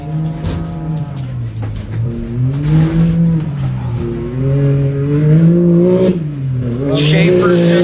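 UTV turbo race vehicles at the High Desert 100 in Powell, Wyoming roar past with rising and falling engine pitch, revving hard through gear changes close by, while people talk over the noise.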